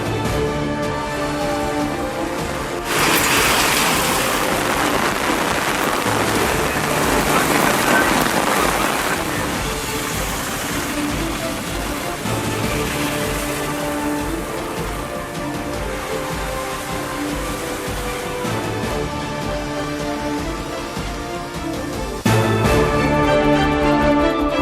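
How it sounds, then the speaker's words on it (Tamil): Heavy rain pours down steadily in a continuous dense hiss and patter on surfaces, loud and close, with music playing over it. "நெல்லை, தூத்துக்குடி மாவட்டங்களில் பெய்த கனமழையினால் சாலைகளில் பெருக்கெடுத்த தண்ணீர்."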